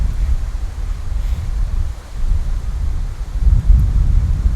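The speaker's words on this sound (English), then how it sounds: "And a storm. There's always a storm." Stormy outdoor weather with wind and thunder: a steady low rumbling roar of gusts buffeting the microphone, swelling into a heavier rumble near the end, with no voices.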